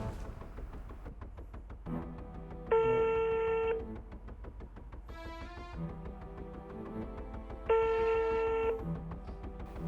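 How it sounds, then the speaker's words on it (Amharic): On a phone call, the ringback tone sounds twice in steady, evenly spaced electronic bursts, each about a second long, over faint background hiss, with no voices. "ይሄኛው እየጠራ ነው እንግዲህ።"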